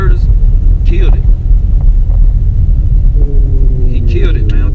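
A turbocharged Camaro with a reverse manual valve body TH400 transmission rumbles loudly and steadily under power, with someone talking over the engine.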